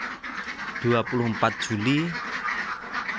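Ducks kept in a pen quack a few times in a short cluster, close by, while someone talks over them.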